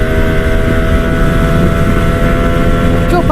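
A CFMOTO 250SR motorcycle engine accelerating in fifth gear gives a loud, steady drone with constant wind rush, close and unbroken for the whole stretch, with no talking.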